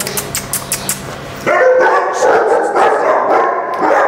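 A dog about a year old barks in a quick close run of sharp yips and barks, followed by louder, denser barking and whining that carries on steadily.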